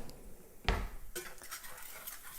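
A spatula scrapes and knocks against a pan while stirring fried chicken: one sharp clank, then a run of light scraping and rattling taps, close and moderately loud, with no talk.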